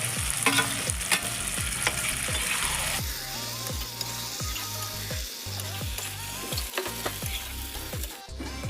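Kohlrabi and pigeon meat stir-fry in a hot pan, with steady loud sizzling and repeated scraping strokes of a spatula throughout, no voices.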